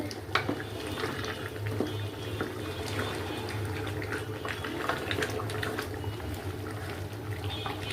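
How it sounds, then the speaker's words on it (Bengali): Large bony pieces of Qurbani meat boil in a pot, a low continuous bubbling and watery churn with scattered pops, heard close and quiet. "এই তো মাংস বলকা এসে গেছে।"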